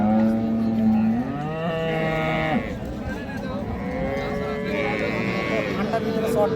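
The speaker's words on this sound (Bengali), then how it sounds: "এই যে এইটা বাছুর।" A heifer calf and cattle at a busy cattle market on a cold winter day give drawn-out, lowing moos that rise and fall, with voices talking nearby throughout.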